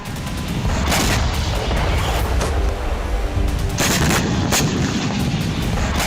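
Loud, continuous battlefield blasts from weapons fire in the Russia-Ukraine war on Russian soil, dense overlapping booms and gunfire crackle rolling on without pause, with sharper bursts near the start and middle.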